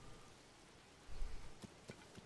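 Steady rain in the video game Zelda: Tears of the Kingdom hisses softly throughout, with a few louder thuds and clicks of in-game movement near the end.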